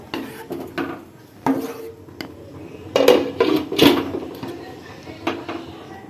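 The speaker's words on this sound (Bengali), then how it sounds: "আমি এটা কিছুটা নাড়িয়ে নিয়ে এবার এটাকে আমি দু তিন মিনিটের জন্য চাপা দিয়ে এভাবেই রাখবো" A spoon stirs semolina halwa in a pot and a lid goes on, making intermittent close scrapes and metallic clanks with a few sharper knocks, while a person talks.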